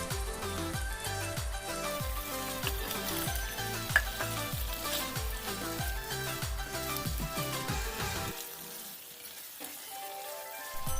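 Chicken Manchurian is stirred in a pan after three sauces go in, sizzling loudly. Rhythmic, regular scraping strokes sound close over a constant fry hiss, then the stirring eases into a quieter sizzle.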